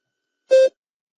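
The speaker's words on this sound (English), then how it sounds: "Begin to prepare your response after the beep." A single short electronic beep, clean and steady, lasting a fraction of a second amid silence.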